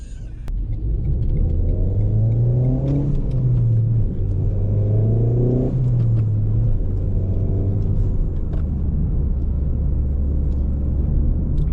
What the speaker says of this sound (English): driving the Renault Megane R.S 280